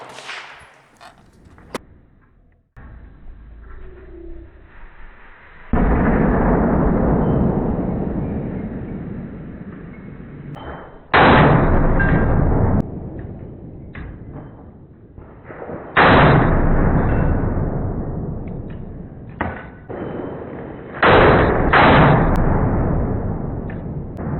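A .40 S&W pistol fires 170-grain powder-coated cast lead bullets: four loud, sharp reports spaced about five seconds apart, each trailing off in a long, ringing decay, with no talking.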